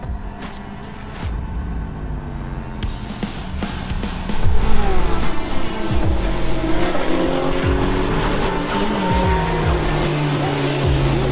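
A race car at a Swiss motorsport event goes to full throttle onto the start-finish straight. Its loud engine climbs through the revs over brief tyre squeals, and the sound stays close and intense throughout.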